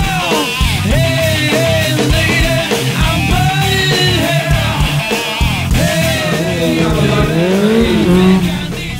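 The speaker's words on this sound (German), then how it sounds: "Das ist eine CBR 600 von Honda, hat 108 PS und eine sehr kurze Übersetzung." A Honda CBR 600 with 108 hp and very short gearing, ridden in a stunt show, revs hard and close with loud engine wails and tire squeal throughout.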